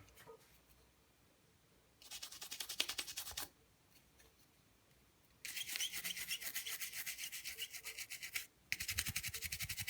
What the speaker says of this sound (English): Maybe I'll take just a dry toothbrush.